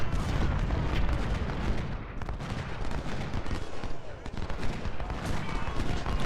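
Dense, continuous musket volleys and artillery booms from a Civil War battle in Ultimate General: Civil War, Battle of Winchester, a steady loud barrage with overlapping shots throughout.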